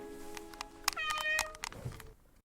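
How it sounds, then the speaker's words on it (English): A domestic cat meows several times in short, clear calls, close and fairly loud, with no talk, before the sound drops away to silence. "The cat jumps into the box."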